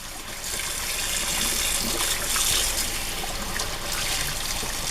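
Water streams and trickles steadily as a scrubbing sponge is wrung out, a close, continuous splashing dribble without talk.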